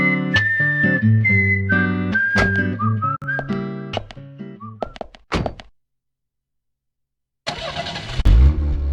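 In the Deadly Premonition video game, a car's engine starts and pulls away, with a solid thunk and a rising engine roar after a brief silence. Whistling tones and game music play beforehand.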